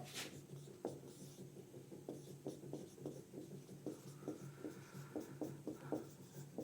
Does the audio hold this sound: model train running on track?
no